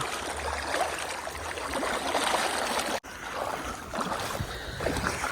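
Continuous rushing water of the Sutlej River flowing, loud and steady with a broad wash of noise and a brief dropout midway.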